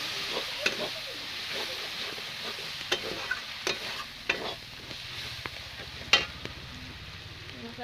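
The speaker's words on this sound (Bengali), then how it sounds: "মশলাটাকেও ভালোভাবে আমি কষে নেব।" Ground spice paste for a village-style mutton curry fries in a pan, a steady soft sizzle broken by scraping spatula stirs and occasional sharper clinks against the metal, close by.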